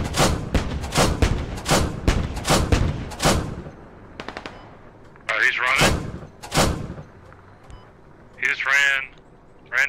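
Vehicle-mounted gun firing in the video game Squad: a rapid string of loud, evenly spaced heavy shots, then a pause, then a few more single booming rounds, with a voice speaking between them.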